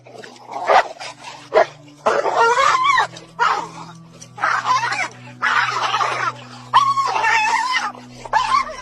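Dogs bark, yip and snarl in a frantic scuffle, with continuous growling and yelping bursts over a steady low hum.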